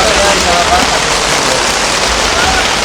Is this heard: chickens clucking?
no